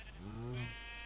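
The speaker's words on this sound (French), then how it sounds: "Voilà, un mouton." A sheep in a survival video game gives one short, wavering bleat, fairly quiet and heard on its own.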